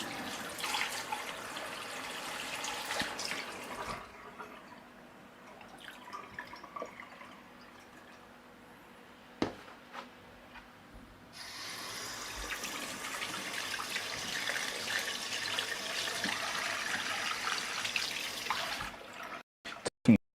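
Cold water runs from a tap in a dense hiss that stops partway and then returns steadily, with faint drips and clunks in between and no talking.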